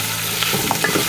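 Thinly sliced onion frying in a pan for a Kerala chicken curry with curry leaves, a steady close sizzle broken by a few distinct scraping stirs of a spoon.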